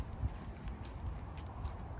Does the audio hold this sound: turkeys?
no